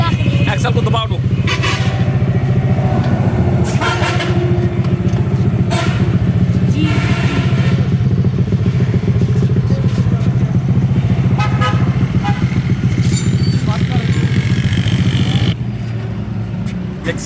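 A 2025-model Honda CG 125 motorcycle engine runs steadily in Pakistan, a loud, continuous low drone that holds for most of the clip before easing near the end, with voices and a possible horn toot mixed in.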